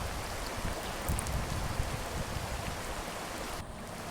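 Water sprayed onto a rooftop gives a dense, even patter like steady rain, close and constant with no voices, cutting out briefly near the end.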